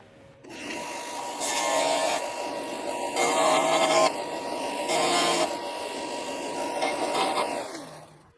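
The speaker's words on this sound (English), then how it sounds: "So let me get the grinder out." Angle grinder grinding a metal spacer flat for DIY front end links on a 2015 Subaru WRX, a close, continuous rasping whine that swells and eases in several passes over about seven seconds.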